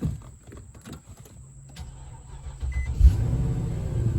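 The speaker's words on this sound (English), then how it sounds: "now take two. Start the car" Infiniti FX50 Sport crossover engine starting with the doors open; a few quiet clicks and shuffling sounds lead to the starter cranking, then the engine catches with a firm burst and settles into a steady, rumbling idle.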